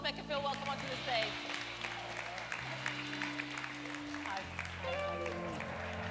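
An audience claps to welcome a woman named Paulette onto a stage, moderate applause running throughout, mixed with music-like tones and voices talking over it.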